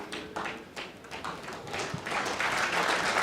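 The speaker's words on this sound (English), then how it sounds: "the crowd are clapping" A crowd at the 2019 World Cup of Pool final, Philippines against Austria, breaks into dense applause. The clapping starts patchy and builds into a steady, fuller clatter by the end.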